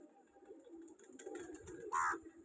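Pigeons of a good breed coo softly amid background chatter and rustling in a village, with one louder, clearer coo near the end.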